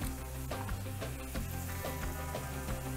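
Chopped onion sizzling in a pan while cooking for an Iranian lamb and yogurt stew, a steady soft frying hiss with faint crackles and light stirring, fairly quiet and without talking.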